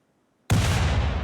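A gunshot in the RimWorld video game bursts in suddenly after near silence, a loud, heavy blast that rumbles on briefly.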